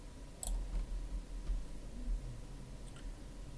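A mouse button clicks on the submit button of an online vegetation-clearing notification form: one crisp, close click near the start, then a couple of fainter clicks over quiet room hiss.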